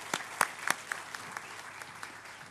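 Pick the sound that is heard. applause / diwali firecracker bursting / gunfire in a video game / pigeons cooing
applause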